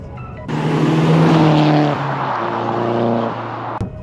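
Loud, close Audi S3 8L turbo engine revving: a sudden surge into a roaring, sustained tone that dips and rises again before stopping sharply.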